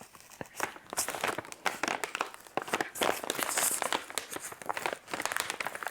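Crinkly plastic or paper wrapping on a quilt advent calendar box is torn and rustled open, a busy close run of crackling, tearing and crumpling with no talking.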